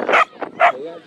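A dog gives two or three quick, sharp barks close by, each short and yappy with brief gaps between them.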